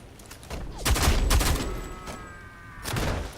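An SMG fires in Homefront The Revolution in short, close bursts. A loud stretch of rapid shots comes first, then a brief pause, then a second shorter burst over steady game ambience.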